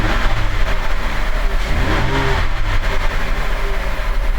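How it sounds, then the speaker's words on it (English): Car engine snapped to high revs with the throttle, a loud, steady mechanical roar that holds and rises through the whole stretch, with no talking over it. "I'm gonna go ahead and snap the throttle and let's see what happens"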